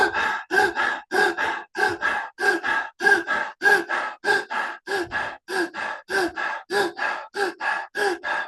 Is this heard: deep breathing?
yes